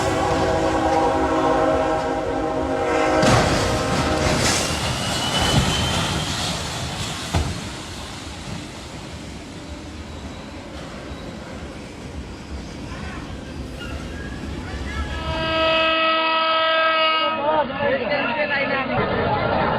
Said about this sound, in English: an Indian man somehow survived unharmed after collapsing onto the tracks as the train roared past.